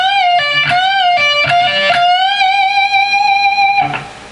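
An electric guitar plays a lead phrase with repeated bends up and back, then a quick hammer-on and pull-off, bright and sustained, alone with no talk, fading at the end.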